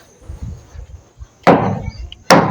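A hammer drives nails into a house frame, giving two loud, close, sharp strikes, the second shortly after the first, over faint background noise.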